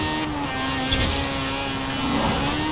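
A 1985 Mazda RX-7 rear-wheel-drive race car with a race tune and no downforce accelerates in a video game, its rotary engine holding a steady, loud drone with small pitch shifts and no talk over it.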